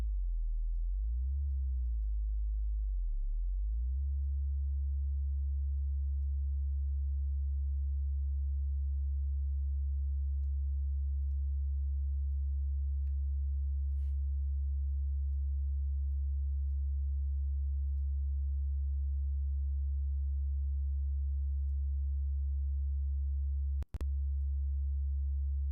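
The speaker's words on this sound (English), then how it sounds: "we're going to make a simple lead out of this" Lo-fi lead synth patch built in Reaktor Blocks: a steady, pure sine-like tone sits alone and unchanging for the full length, with a brief wobble near the start and a single sharp click close to the end.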